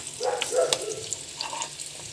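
Crab fries in hot oil in a pan, a brief close crackle and sizzle with a few sharper pops, heard alone.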